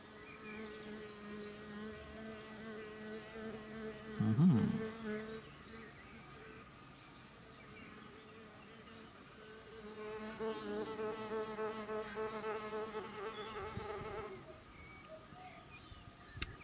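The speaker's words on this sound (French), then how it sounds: "ce sera sur la petite osmie cornue" A horned mason bee (Osmia cornuta) buzzes steadily nearby, its drone swelling louder for a few seconds in the middle before settling back to a soft hum.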